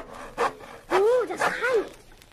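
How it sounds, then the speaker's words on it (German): A handsaw cutting through a wooden bridge, heard as a few rough rasping strokes in quick succession, close and fairly loud, with a dramatized, theatrical quality. "Heimlich mit der Säge. Ratze, ratze"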